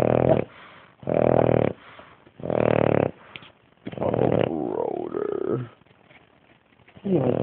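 A sleeping Boston Terrier lets out low growls and snoring wheezes in uneven bursts, with quiet pauses between them; nearby and fairly loud.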